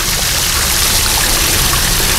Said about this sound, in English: They have a nice little